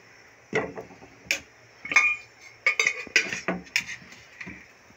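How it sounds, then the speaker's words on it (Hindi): A pan is set on a stove for shahi custard, with desi ghee going in: a string of sharp metallic clinks and knocks at an irregular rhythm, close and clear against a quiet background. "अब हम पैन रखते हैं चूल्हे पे और सबसे पहले इसे फ्राई करते हैं।"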